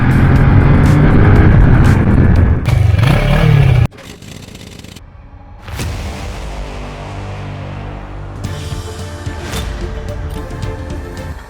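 A BMW F900XR motorcycle fitted with a quick shifter is ridden on the road. Loud engine and wind roar fill the opening seconds, then drop abruptly to a quieter, steady running drone with gusts of buffeting.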